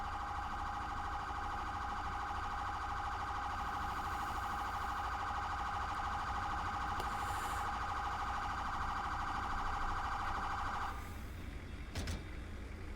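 An ambulance siren in GTA V, an advanced life support unit arriving at an emergency call, holds a loud steady electronic tone for about eleven seconds over a constant engine-like rumble, then cuts off abruptly.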